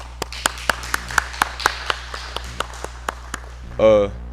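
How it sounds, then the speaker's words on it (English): A few sparse, distinct claps sound one after another at a senior graduation ceremony, a small thin round of applause, fairly close, ending with a short voice. "And I'd like everyone to give him a round of applause."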